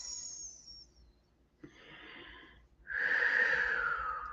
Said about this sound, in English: Take a deep breath in and release.